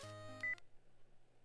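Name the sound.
phone ringing in video game Spirit Hunter: NG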